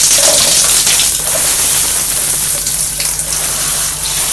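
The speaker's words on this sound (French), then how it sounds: "je rince." Shower water runs steadily while body scrub is rinsed off, a continuous broad splashing hiss that stays close and even from start to finish with no one talking.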